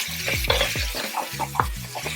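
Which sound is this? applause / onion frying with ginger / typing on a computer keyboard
onion frying with ginger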